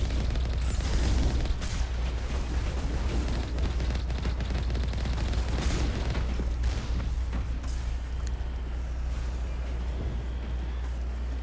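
Mass Effect combat: a dense, continuous roar of gunfire and booming explosions with rumbling low end, loud and sustained throughout, no speech.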